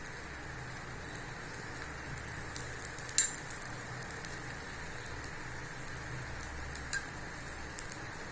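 Dosa cooking on a griddle with sesame oil, giving a continuous fine crackling sizzle like light rain with a few small pops, steady and moderately quiet, no voices.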